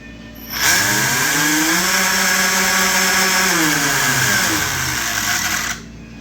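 Electric propeller motors on a model Typhoon submarine spin up to a steady, buzzing whine, hold for about five seconds, then wind down. The sound is loud and close, with no talk.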